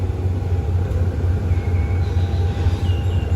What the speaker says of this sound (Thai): ทำการตัดรถจักรออกนะครับ ด้านหน้า